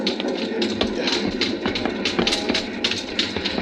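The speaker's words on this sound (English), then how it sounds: "The little train jumping, rocking over the uneven rails." A small train rattles over uneven rails as a radio drama sound effect, with dense rhythmic clattering and rocking bumps, loud and close throughout.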